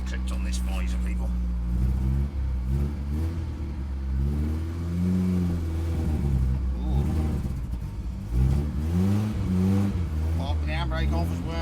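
A Bedford CF van engine runs close by with a low, uneven idle that rises and falls in several revs, while people talk over it.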